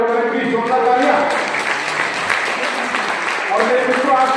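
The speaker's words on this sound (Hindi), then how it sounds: "बाकी सभी साथी तालियों के साथ सहयोग करें, प्लीज जोरदार तालियां।" Audience applause at an awareness programme on artificial intelligence and the metaverse, a steady wash of clapping from a seated crowd lasting the whole stretch, mixed with voices and background chatter.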